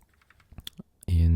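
Keystrokes on a computer keyboard while entering code, a few soft scattered clicks that build toward a louder burst at the end.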